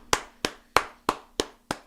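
Six sharp hand claps in an even, slow rhythm, close and loud, each one crisp with a short decay, no voices.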